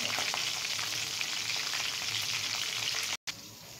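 Hilsa fish fries in mustard oil with a dense, close, continuous sizzle, cut by a brief silence before the frying resumes more quietly.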